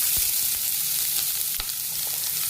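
Chopped spring onion stalks sauté in coconut oil, giving a steady close sizzle with a few sharp ticks and spatula taps scattered through it.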